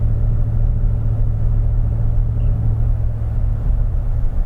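Vehicle engine turning about 1500 RPM after a downshift while gaining speed on a flat grade, a loud, steady low rumble that holds even throughout with no talk over it.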